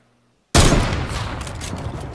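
Sniper rifle shot in the Fortnite video game: one loud, sharp blast after half a second of silence, trailing into a long rolling echo, with no talk.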